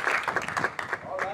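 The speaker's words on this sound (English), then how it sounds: "If we'll give him all a hand clap tonight" A church congregation applauds in a dense, fairly close burst of hand clapping with voices mixed in, sustained through the short stretch.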